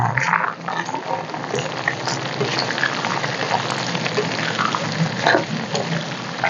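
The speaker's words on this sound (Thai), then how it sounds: "นี่ค่ะ น้ำมันเริ่มออกมาแล้วเห็นไหมคะ ตอนนี้เวลาเจียวแล้วเนี่ย" Pork fat rendering with a pinch of salt in a pan, giving a steady, dense sizzle and crackle that runs unbroken and fairly loud throughout.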